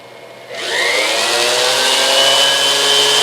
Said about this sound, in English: One of the features of this handset is a reciprocating carver.